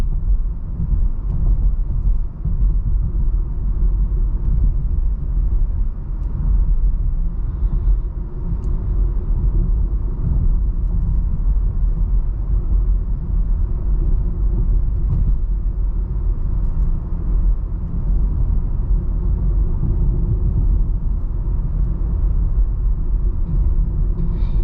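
A 2025 VW Jetta crosses a bumpy stretch of road, heard from inside as a steady, loud low rumble of tyres and suspension with road noise that runs without a break and no voices.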